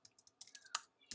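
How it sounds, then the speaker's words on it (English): A handful of quick, light keystrokes tapped on a computer keyboard to enter a search, close and fairly soft, in an irregular rhythm. "In the search, what you want to type is"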